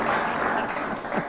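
Small group clapping at a New Year's celebration, steady dense claps with a few voices mixed in, close and fairly loud for a brief moment.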